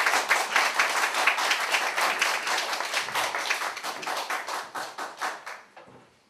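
Sustained audience applause at a Korean political party campaign rally for leadership candidates, dense clapping from a crowd nearby that fades out after about six seconds.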